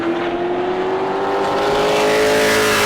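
A Pro Late Model race car at New Smyrna roars close by at full throttle with a loud, steady engine drone that rises slightly in pitch as the qualifying lap finishes.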